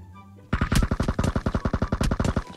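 A burst of about twenty evenly spaced shots in a hide-and-seek video game, loud automatic gunfire starting abruptly after a quiet moment and continuing in a steady, fast rhythm to the end.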